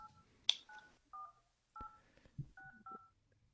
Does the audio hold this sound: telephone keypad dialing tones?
yes